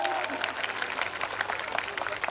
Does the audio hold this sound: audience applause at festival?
yes